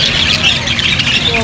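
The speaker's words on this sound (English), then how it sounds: "Look at these birds." Loud, harsh bird squawks overlapping in a noisy cluster, close by, with a voice mixed in.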